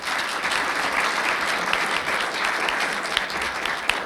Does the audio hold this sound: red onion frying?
no